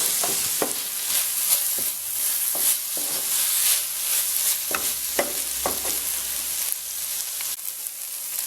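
Chicken noodles stir-fried with vegetables, seasoned with pepper and salt, sizzle steadily and close, with repeated light taps and scrapes of a spatula tossing the food and no one speaking.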